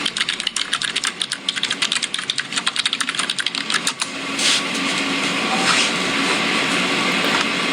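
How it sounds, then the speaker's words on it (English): Loud computer keyboard clattering in rapid, uneven bursts of close keystrokes for about four seconds, then giving way to a steady broadband rush with no voices. "That is the loudest keyboard I've ever heard."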